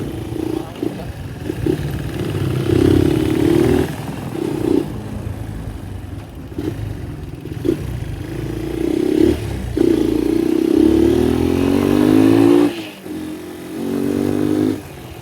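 A Honda XL 200 R motorcycle engine revs repeatedly, its pitch rising and falling in loud, close bursts with brief drops to idle between throttle blips.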